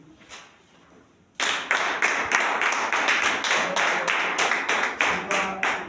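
Church congregation breaking into sudden loud applause after a quiet moment, dense rhythmic clapping with recurring accented beats, as if many people clap together in time, sustained and close.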